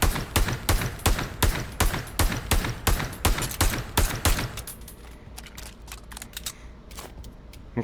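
Rapid Desert Eagle pistol shots in the VR game Pavlov, a fast string of about a dozen sharp loud cracks, then a few scattered fainter clicks and shots.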